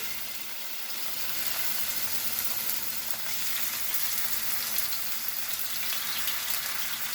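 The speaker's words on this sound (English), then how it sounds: "you want to hear the sizzle." Steady, close sizzling of pork frying in a hot pan, a dense crackling hiss that continues without pause and with no voices.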